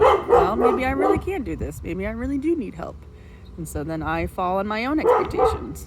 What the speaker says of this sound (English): my dog's barking. She sees a squirrel.